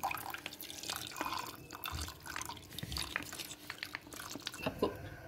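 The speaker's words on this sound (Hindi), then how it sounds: "अब मैं इसमें ये ऑल पर का दूध डाल दूंगी" Whole milk poured into browned flour (maida) in a pan for a white lasagna sauce, heard as steady close liquid pouring and dripping with soft wet sloshing and stirring throughout.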